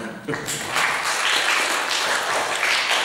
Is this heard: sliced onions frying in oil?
no